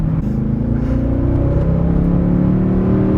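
Naturally aspirated V8 of a Mercedes CLK63 AMG Black Series accelerating hard from inside the car, a loud, steady rising engine roar with climbing harmonics and no talk.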